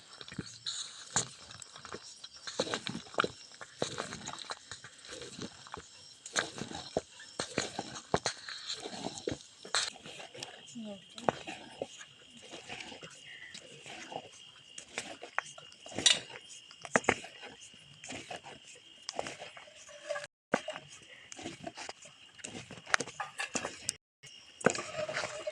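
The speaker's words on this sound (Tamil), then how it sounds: "நல்லா கொதிக்கணும்னு கிளறணுங்க." A spoon stirs pearl millet kali boiling in a pot, giving a continuous busy stream of scraping and clinking against the metal, with scattered sharper clinks throughout.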